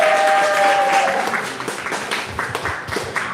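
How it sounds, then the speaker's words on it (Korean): Audience applause at a consumer meeting, a loud burst of clapping that thins into scattered individual claps toward the end, with a brief voice tone at the start. "박수 부탁드립니다"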